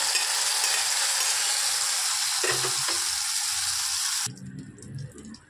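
A hot tempering of curry leaves and dried red chilli in oil crackles loudly and steadily as it is stirred into bisi bele bath, then the sizzle cuts off abruptly, leaving quieter clinks and mixing sounds.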